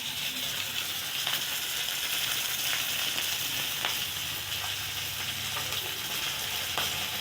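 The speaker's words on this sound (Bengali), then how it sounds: "মাছ ভাজা হয়ে গেছে, দেখো এরকম মাছ ভাজা হয়ে গেছে" Fish fries in hot oil with a dense, continuous sizzle and crackle at even loudness, close up, with a few faint clinks and no talking.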